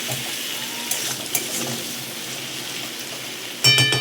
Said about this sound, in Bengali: এবার গ্যাসের আঁচটাকে হাই করে দিয়ে একটু নাড়িয়ে চাড়িয়ে আবার বেশ কিছুক্ষণ ভাজবো এটাকে